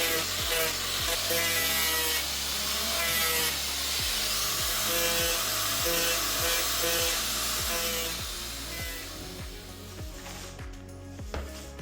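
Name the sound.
grinding a bevel on plastic water tank edges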